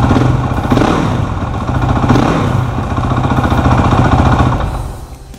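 A dirt bike engine starts and runs loud and close, a steady mechanical clatter that holds for several seconds before easing off at the end.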